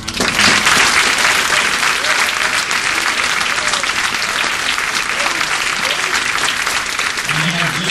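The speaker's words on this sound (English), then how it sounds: "So let's give these individuals a round of applause." An audience at a graduation ceremony bursts into dense, loud applause that holds steady and sustained for the whole stretch, with no voices over it.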